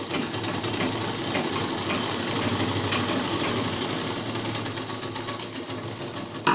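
Sewing machine stitching a ladies' trouser, a steady fast mechanical whir and needle clatter running continuously and close for several seconds.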